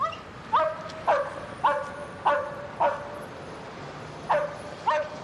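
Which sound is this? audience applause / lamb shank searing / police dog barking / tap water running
police dog barking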